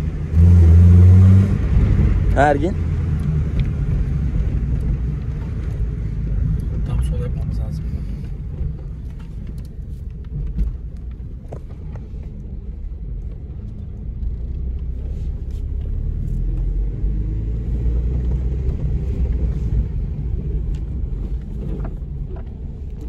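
A car on the road makes a constant low engine rumble and road roar, with a heavier surge at the start, while people talk inside the cabin almost throughout.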